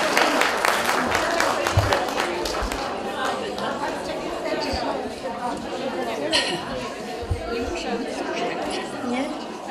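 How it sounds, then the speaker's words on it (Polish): An audience at a small-town Easter folk celebration in Lubawka applauds a traditional folk ensemble, with scattered clapping mixed into steady, loud crowd chatter throughout. "Ogromne brawa!"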